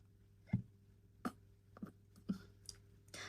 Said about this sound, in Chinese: 一旦打嗝开始，我就是一个很难停的人